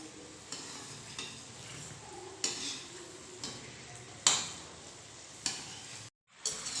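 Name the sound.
gujiya frying in oil on low flame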